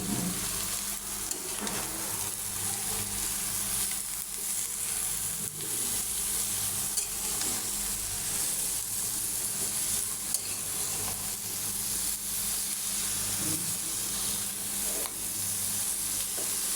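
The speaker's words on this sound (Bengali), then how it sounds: "আমি বুড়ির সাথে মশলাটা ভালো করে মিশিয়ে নিলাম।" Spice paste and beef tripe stir-fry in a pan, a dense continuous sizzle with soft scraping of stirring running steadily throughout, close and loud, no one talking.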